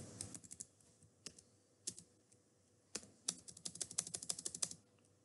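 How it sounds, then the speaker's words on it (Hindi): Quiet close-up typing on a computer keyboard, a few isolated key taps followed by a quick run of clicking keystrokes, with no voices. "जैसे कि मैं मेरा नाम टाइप करता हूँ यहाँ"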